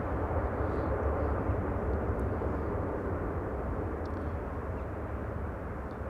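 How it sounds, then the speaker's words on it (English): Airliner arriving at Amsterdam Schiphol, a KLM flight from Bonaire, producing a continuous low rumbling jet roar that fades slightly toward the end, alone without voices. "KLM flight 765 arriving from Bonaire."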